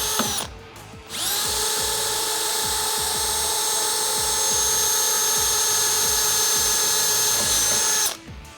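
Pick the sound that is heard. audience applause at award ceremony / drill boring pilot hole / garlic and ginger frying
drill boring pilot hole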